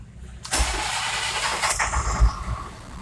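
Bucket truck with nearly 290,000 miles cranking briefly and firing up, then settling into a rough steady idle close by.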